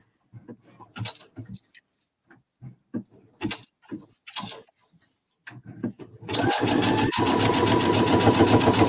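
After a stretch of scattered talking, a sewing machine starts up abruptly and keeps running loud and close, a steady rapid whirring clatter through the final few seconds.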